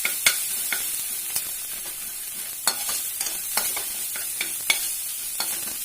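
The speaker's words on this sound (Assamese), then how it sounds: "হালধিটো দি অকমান লৰাই দিম" Vegetables stirred in a pan with turmeric for a low-oil dry vegetable dish in a home kitchen, with a steady sizzling hiss under repeated sharp scraping clicks of a spoon against the pan.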